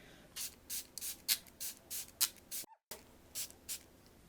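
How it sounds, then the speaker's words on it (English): A fine-mist spray bottle of primer water is pumped repeatedly toward a face, about a dozen short hissing bursts in quick, fairly even rhythm, close up, with a brief pause partway through. "I'll take my primer water and I'll just spray it generously all over my face."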